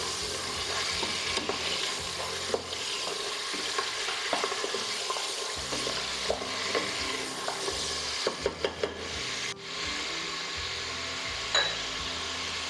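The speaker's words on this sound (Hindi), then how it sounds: "इसको हम कलर चेंज होने तक फ्राई कर लेंगे।" Meat for shaljam gosht, a turnip and meat curry, frying in a pan with a soft continuous sizzle, broken by repeated scrapes and clinks of a spoon stirring against the metal, close and fairly quiet.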